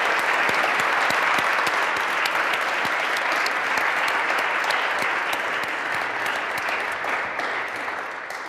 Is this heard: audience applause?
yes